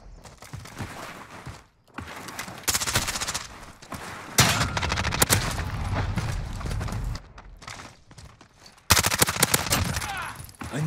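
Shotgun blasts ring out in a first-person shooter 1v1 match with an AS VAL and 725, loud repeated bursts over busy game noise, with brief pauses between volleys.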